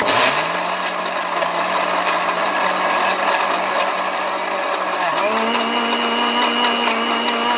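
A blender whirs loudly and steadily as it mixes a chocolate cocktail with cheese and cognac, its motor pitch dipping briefly before settling back into a constant high hum.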